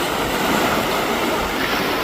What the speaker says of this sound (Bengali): ঢেউ খাচ্ছিল।